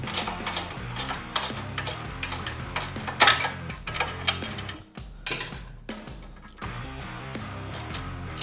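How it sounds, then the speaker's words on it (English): A screwdriver tightening a bolt on a Can-Am Renegade 1000 XXC ATV, giving rapid ratcheting clicks and metallic mechanical rattles, close and fairly loud in irregular bursts with brief pauses. "let me see if I can get it with a screwdriver. Yep, there we go, she's tightening."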